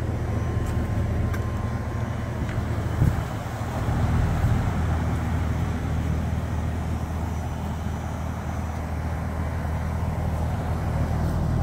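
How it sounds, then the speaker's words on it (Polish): A Mitsubishi Zubadan heat pump runs hard at full power heating domestic hot water, producing a steady, broad mechanical drone with a fan whoosh and low hum that stays constant, close by. "Pracuje Zubaran na pełnej mocy, ponieważ wygrzewa w tej chwili ciepłą wodę użytkową, więc pracuje dosyć ostro."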